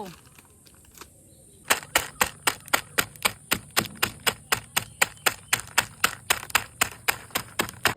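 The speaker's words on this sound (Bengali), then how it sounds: "কুরকুরের প্যাকেটগুলোকে কেটে গুঁড়ো করে নেব" Kurkure snacks being crushed to powder inside their packets: after a quiet start, about twenty sharp, evenly spaced crunching strikes in a fast, steady rhythm, close and distinct.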